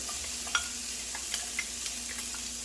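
Onion frying in bacon grease in a pan, a steady close sizzle with occasional soft stirring clicks and pops, no talking.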